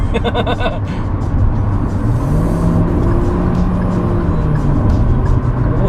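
A Kia Sonet accelerates hard at full throttle, a loud continuous interior engine roar with rising tones and road rumble, a brief chime at the start, no talk.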